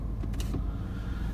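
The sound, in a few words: power side windows rising on Mercedes SLK230 convertible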